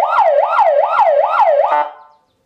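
Seven-tone electronic siren through a 30-watt TOA horn speaker, sounding a loud, fast rising-and-falling yelp that repeats about four times before cutting off abruptly, with no voices.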